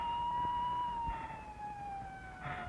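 A 1960s ambulance siren wails steadily at a distance, one long gliding tone that slowly falls in pitch against a faint background rumble.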